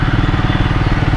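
Triumph Speed 400 motorcycle engine while riding, a loud close rhythmic thrumming pulse at steady revs with no talk.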